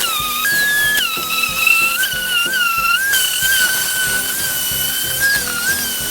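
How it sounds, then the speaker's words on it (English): A power sander works old paint off a wooden bench, giving a steady high whine with shifting squealing pitch that runs loud and unbroken throughout. "We will start by sanding the old paint off."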